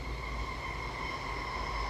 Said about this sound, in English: I keep forgetting that trains pass by once an hour here.